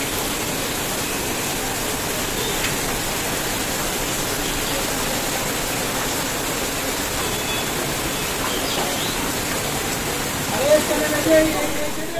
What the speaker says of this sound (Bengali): আর এই যে মাশাআল্লাহ অনেক সুন্দর বৃষ্টি হইতেছে